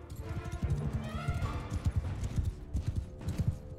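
Cavalry horses in Mount and Blade Bannerlord gallop in a fast, irregular clatter of hoofbeats, close and fairly loud, with faint battle noise and a brief whinny in the background.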